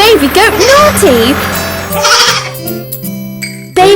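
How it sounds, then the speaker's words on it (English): A baby goat bleats several quavering times near the start of a cartoon nursery rhyme, loud and close, before bouncy music with sustained tones continues. "Isn't the baby goat naughty?"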